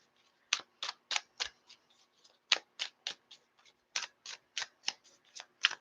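Tarot cards are shuffled by hand in quick bursts, a run of crisp riffling snaps with short pauses between, close and clear with no talking.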